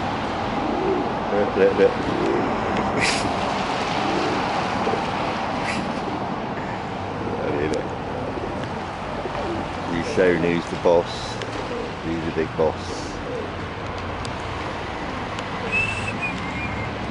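A bird calls repeatedly with soft cooing phrases amid outdoor background noise, while a person talks intermittently over it.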